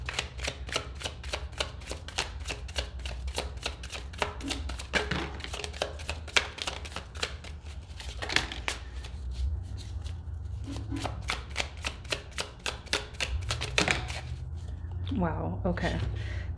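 Tarot cards are shuffled and pulled in a steady run of crisp riffling flicks and slaps, close and fairly quiet, with a few brief pauses and soft handling sounds near the end.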